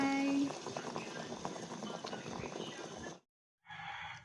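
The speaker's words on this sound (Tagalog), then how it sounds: "Nagpakulo na ako ng tubig." A pot of water boils with vegetables added, giving a steady bubbling and hissing close by that cuts out briefly near the end before resuming.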